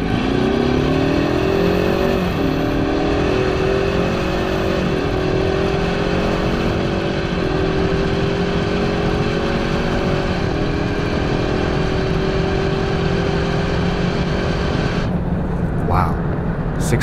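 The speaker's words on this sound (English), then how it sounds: "that limiter bounce doesn't sound half bad" A 310 hp Ford Mustang EcoBoost 2.3L Premium accelerates hard through the gears, with a loud, steady engine drone that rises in pitch and drops at each upshift across the full run.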